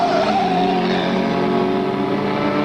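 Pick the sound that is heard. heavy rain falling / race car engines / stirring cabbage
race car engines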